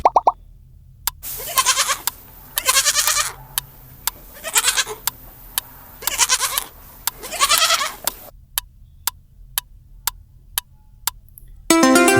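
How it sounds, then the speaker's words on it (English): A goat bleats in wavering, cry-like calls, several drawn-out bleats in a row, followed by a series of sharp clicks and a brief burst of tones. "Goat bleats can sound surprisingly like a crying baby."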